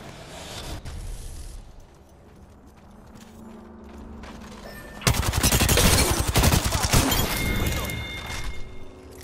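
Apex Legends gunfire bursts out abruptly midway, a dense, loud run of rapid shots over game ambience, following a quieter stretch with faint background sounds.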